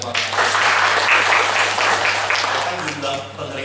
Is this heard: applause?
yes